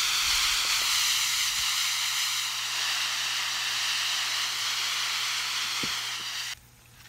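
Water poured generously from close range onto soil in a grow bag before planting home onion sets, a steady broad rushing hiss that holds evenly for about six seconds, then cuts off abruptly.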